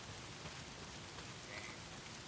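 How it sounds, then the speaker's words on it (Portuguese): Steady rain falls on a surface during a wet ride on a dangerous road, a constant hiss of drops with no voices. "mas porquê é que está sempre a chover?"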